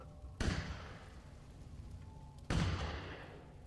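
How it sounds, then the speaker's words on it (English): Two gunshots ring out in the survival horror video game Resident Evil Village, each a sharp boom with a long decaying tail, fairly distant and spaced about two seconds apart, with no talking. "You know, normally when you hear gunshots, you kind of want to stay indoors."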